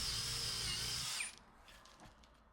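A power drill bores a starter hole through wood for a jigsaw blade, a loud close high whine that cuts off abruptly after about a second, leaving faint handling noise.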